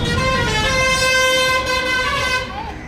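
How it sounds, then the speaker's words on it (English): A vehicle's loud sustained horn honks in salute while passing the Om Banna shrine on a Rajasthan road, one long multi-tone blast over engine and road noise, fading out at the end. "So that honk was basically the respect paid to Sri Om Banna Ji."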